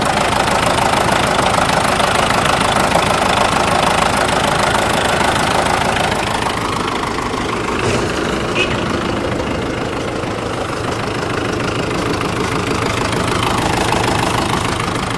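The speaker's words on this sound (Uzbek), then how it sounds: "Tomondan ko'rsatadigan bo'lsak, motor holatlari mana" A New Holland 5060 tractor engine idles up close with a loud, steady knocking rumble throughout, while voices speak faintly beneath it.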